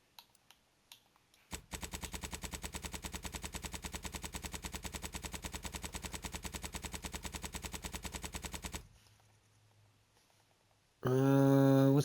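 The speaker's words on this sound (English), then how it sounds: "I really want to mess with this machine gun some more." A machine gun fires in the video game The Outer Worlds 2 in one long, steady rapid-fire burst of evenly spaced shots lasting several seconds. Quiet clicks come before it, and a loud, tonal game sound follows after a pause.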